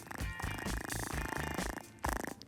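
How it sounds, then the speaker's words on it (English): A raccoon purring up close, a soft rapid rumbling throb pulsing steadily over a couple of seconds, with a brief gap before the purr resumes. "I didn't know raccoons purred."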